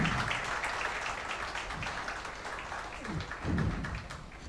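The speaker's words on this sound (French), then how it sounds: "Merci, on peut applaudir." An audience at a company award ceremony claps in a dense, steady wash of applause that swells briefly near the end.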